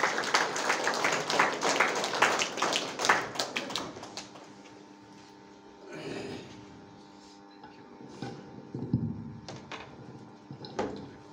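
A church congregation at a Saturday service claps together to welcome a speaker, with dense close applause for about four seconds, then scattered taps, shuffles and rustling in a reverberant hall.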